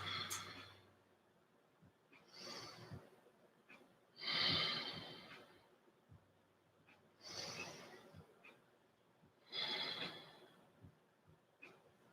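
Slow, audible breathing during a seated chair yoga stretch, with about four long inhale-exhale cycles spaced evenly, close and soft, with no talking.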